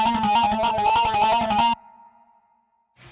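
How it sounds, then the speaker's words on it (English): An organ patch from a keyboard setup, played as quick, rhythmic repeated chords for under two seconds before cutting off into a faint fading tail, with a short new onset at the very end. "This is the organ sound."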